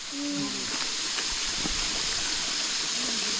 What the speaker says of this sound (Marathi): हा दिसतोय का इथे झरा आहे